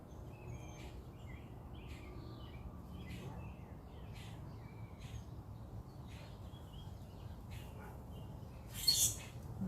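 Small birds chirp in a backyard rose garden, faint and fairly distant, giving scattered short calls over a low outdoor hum, with one brighter, louder call near the end and no talk.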